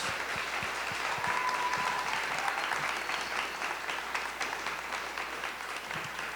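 Steady applause from an audience at a talk fills the whole stretch, a dense wash of clapping with a few louder individual claps near the front.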